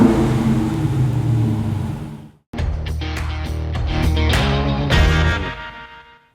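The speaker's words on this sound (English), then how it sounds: "there's no mistaking the sweet sound of the exhaust as anything other than pure muscle." A Dodge Super Bee muscle car, built from a 1320 Scat Pack, revs its exhaust loudly up close: one sustained blip, a brief cut, then a rumbling second rev with throttle stabs that fades out.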